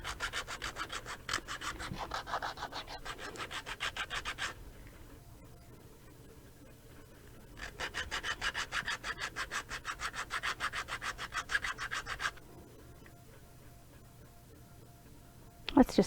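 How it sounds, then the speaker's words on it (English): ABS plastic being sanded by hand, steady rapid back-and-forth rasping strokes in two long bursts separated by a quiet pause, close and moderately loud, with a brief knock at the end. "So ABS plastic is supposed to be easy to sand."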